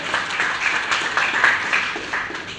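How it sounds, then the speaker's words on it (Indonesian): Classroom applause during an Indonesian-language lesson, a short burst of many students clapping at once, fairly loud and close, with no talk over it. "Kasih tepuk tangan untuk Mose."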